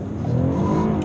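A 2019 Toyota Avalon in sport mode accelerates hard from inside the cabin, its engine note climbing in a steady, loud surge as the wheels nearly spin, with no voices.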